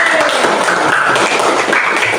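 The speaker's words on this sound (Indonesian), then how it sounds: "Tepuk tangan sekali lagi buat kelompok Matahari." Classroom applause for a student group after their presentation: a loud, dense burst of clapping that fills the short moment without any voices.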